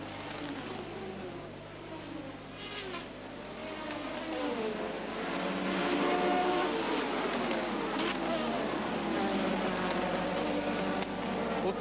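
Formula 1 cars roar off the start of the 1985 French Grand Prix at Paul Ricard, a dense, rising engine wail from a full grid heard from a distance, with a commentator talking over it.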